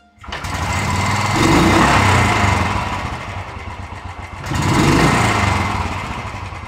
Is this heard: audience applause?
no